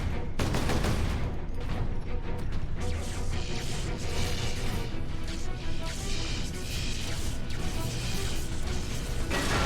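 Sentry guns in the Space Marine video game fire dense, continuous bursts of rapid automatic gunfire with crashing impacts. The barrage is loud and sustained throughout.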